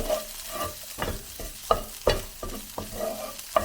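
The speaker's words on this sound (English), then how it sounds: "So I've added in the garlic and the smoked paprika, I've just got to cook this for a minute" Garlic and smoked paprika fry in a pan for a bacon and tomato spaghetti sauce, a soft sizzle broken by several sharp spoon clacks and scrapes against the pan.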